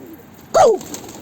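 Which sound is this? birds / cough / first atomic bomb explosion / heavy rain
birds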